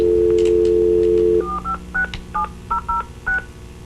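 A telephone dial tone cuts off and a conference call line is dialed, followed by a quick rhythmic run of about nine distinct touch-tone beeps, loud and clear with no voices.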